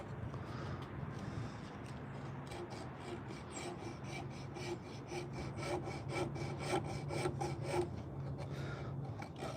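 A high-speed sander grinds an old piece of nectarine wood being carved into a fork. It gives a steady, close, continuous rasp with fast gritty texture throughout, and no voices.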